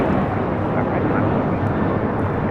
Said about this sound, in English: This is Alaska Airlines 1446 taking off to Los Cabos on a 737-900ER